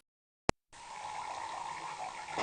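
A thin stream of water running from a tap, starting after a brief sharp click and then flowing as a steady, moderately loud rush that swells slightly at the end.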